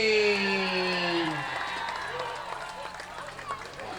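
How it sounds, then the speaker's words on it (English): A crowd at a youth football game honoring the New Hartford Wolverine A-Team claps and cheers after a fading tonal sound, steady scattered applause with occasional shouts, fairly close and moderately loud. "let's have another big, huge round of applause for the New Hartford Wolverine"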